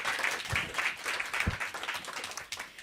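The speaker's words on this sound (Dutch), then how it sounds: "Maak even een applaus." Brief applause from a live audience at a queer cinema show, scattered claps with a few sharper individual hits, moderately close and not very loud.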